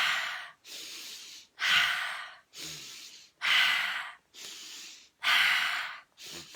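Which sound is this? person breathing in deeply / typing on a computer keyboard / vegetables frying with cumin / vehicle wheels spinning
person breathing in deeply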